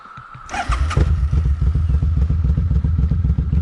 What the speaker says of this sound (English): you got to pull the clutch in to crank it